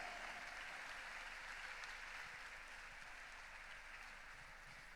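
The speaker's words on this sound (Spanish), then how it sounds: "Le damos un fuerte aplauso al Señor" Faint, steady applause from an audience at a women's congress workshop, continuous distant clapping with no clear individual claps.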